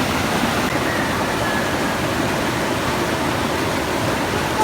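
Strong waves crashing near Malingin Rocks in Liloan, Cebu, a loud continuous rushing roar of surf with no break and no talk.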